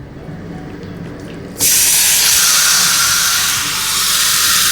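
Yogurt-marinated chicken for chicken tikka masala hits a hot pan and bursts into a loud, steady sizzle that abruptly replaces near silence and keeps hissing strongly to the end.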